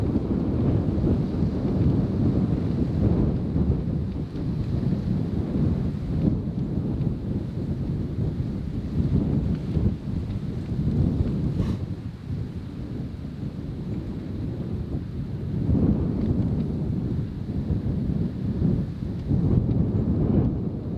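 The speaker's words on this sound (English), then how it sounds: "It's windy as fuck though." Steady wind buffets an outdoor microphone in an open, remote spot, a continuous loud rumbling gust noise with slight swells, and no talking over it.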